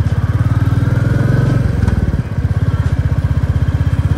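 A Royal Enfield Meteor 350 motorcycle idles up close with a steady, loud single-cylinder thump that holds a regular beat throughout, briefly dipping before settling back into its even rhythm.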